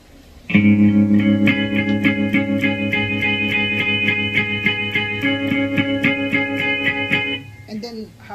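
Distorted electric guitar chords ring out loud and sustained with a steady strummed rhythm, fading near the end; faint effects-laden tone throughout.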